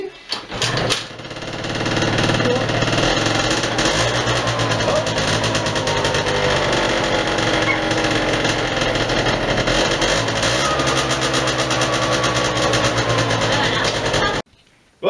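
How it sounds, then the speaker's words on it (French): A small motor on a test run starts up with a brief sputter, then runs at a steady, buzzy, high-pitched idle close by for several seconds before cutting off abruptly. "Gwen, tu fais l'essai moteur?"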